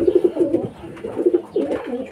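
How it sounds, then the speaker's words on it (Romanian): Pigeons coo in a steady, fairly close series of soft, throaty calls, rising and falling in short bursts as they start to eat, with only faint background noise. "Și porumbei a început să mănânce."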